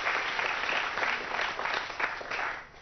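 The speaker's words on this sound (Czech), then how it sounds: "Zatleskejte panu doktorovi, zatleskejte správně, zatleskejte panu doktorovi" Studio audience of a 1998 Czech TV quiz show applauding, a steady dense wash of clapping throughout that swells and dips slightly, with no speech over it.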